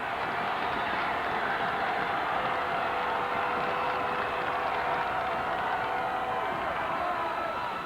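A gym crowd at a 2000 high school basketball game between the Eagan Wildcats and Eastview Lightning roars in a steady, dense wall of cheering that continues unbroken for the whole stretch, with no clear talk on top.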